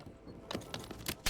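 A weapon reload in Black Ops 6 produces a quick series of metallic clicks and clacks, short sharp bursts over about a second, close and fairly quiet.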